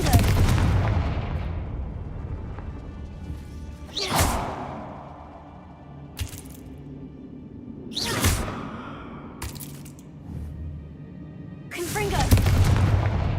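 Confringo fire spell explosions in Hogwarts Legacy: several loud booming blasts with whooshing tails, spaced a few seconds apart, with sharper cracks between them over a rumbling game background and a voice heard briefly.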